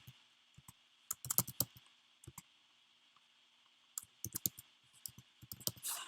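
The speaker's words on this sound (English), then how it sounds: "I'm just going to type the same thing." Typing on a computer keyboard in a quiet room: faint, close key clicks in irregular bursts with short pauses between them, over a low background hiss.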